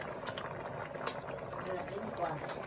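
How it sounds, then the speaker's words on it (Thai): A pot of southern Thai sour curry with sea fish bubbles at a low simmer, a soft continuous burble beneath ongoing talk. "หม้อแกงก็เริ่มเดือดแล้วนะ"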